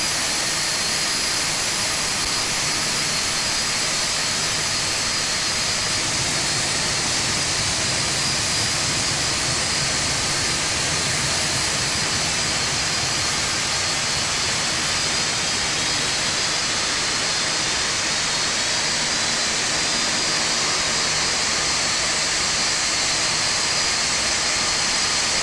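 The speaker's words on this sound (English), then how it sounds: "we'll go outside now and check engine 3 and 4 starting up" Engines 3 and 4 of a simulated Boeing 747-200 jet start up in X-Plane 11, a loud, steady, dense turbine roar with broad hiss filling the whole stretch and no talking.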